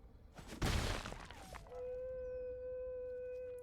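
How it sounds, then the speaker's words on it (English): A dog howls loudly nearby, holding one long, steady, drawn-out note after a brief burst of noise, with no talk over it. "that dog is so loud."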